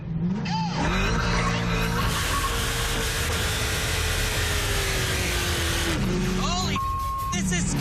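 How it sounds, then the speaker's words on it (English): A car launches hard from a standing start on a countdown, engine roaring continuously with wheel spin as it accelerates, loud and close, with a driver's voice over it and a brief whistle-like tone near the end. "A lot of wheel spin."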